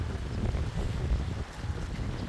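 Steady wind at a beach in Batangas, Philippines, buffeting the microphone with a low rumble, continuous and fairly loud throughout, no voices.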